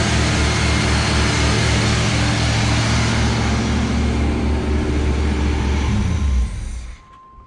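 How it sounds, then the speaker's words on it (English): A Camaro V8 engine idles too high after a Q-jet carburetor swap, with a loud, close, steady rumble that runs for several seconds, then stops abruptly near the end. "Idle is too high."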